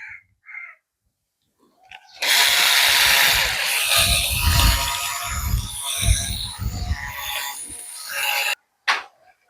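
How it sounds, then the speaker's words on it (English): A power drill enlarging a hole runs loud and close with a harsh, sustained whine for about six seconds, rising and wavering under load, then cuts off abruptly, with a brief burst after a short pause. "So now I'm going to use my drill"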